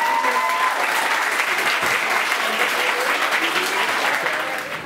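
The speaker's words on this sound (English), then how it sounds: "Big round of applause for Thorpe Academy." Loud, sustained applause fills an awards event as an audience claps for a winning academy, a thick continuous roar of hands with faint voices mixed in, tapering slightly at the end.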